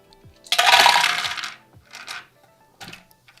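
Ten dice are rolled together for a bingo game, making one loud burst of rattling clatter that tapers off, followed by a few softer clicks as the last dice settle.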